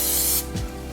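Cooking spray is sprayed into a baking dish for loaves, one loud steady aerosol hiss lasting under half a second, close up, followed by a soft clunk of handling and no talk.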